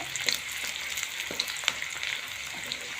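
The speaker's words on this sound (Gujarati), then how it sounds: "લસણ મરચાં ડુંગળી નાખ્યા પછી સરસ મજાનું શેકાવા દેવાનું છે" Garlic, chillies and onion roast in a pan for a raw-tomato curry, giving a soft, continuous sizzle broken by occasional light clicks and scrapes from stirring, close and without talk.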